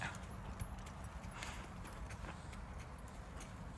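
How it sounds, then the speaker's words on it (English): Faint hoofbeats clop unevenly on the ground, quiet and slightly distant, with a soft background hiss and no talking. "Pretty horse in the sunset."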